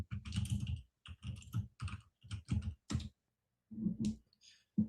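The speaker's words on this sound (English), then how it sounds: "sorry for typing" Rapid clicking of a computer keyboard in bursts of fast typing separated by short pauses, close and clear with no talking over it.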